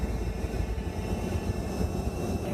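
A light airplane engine droning steadily inside the cockpit during airfield circuits at LFMA, a loud, continuous low rumble with no talk over it.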